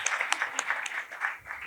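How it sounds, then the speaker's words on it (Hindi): A church congregation at Christ Holiness Church applauds in welcome, a brief burst of scattered, fairly quiet hand claps from a modest crowd, uneven and thinning toward the end. "ज़ोरदार तालियां बजाकर क्राइस्ट होलीनेस चर्च डिफेंसिव की कलीसिया आपको वेलकम कहती है"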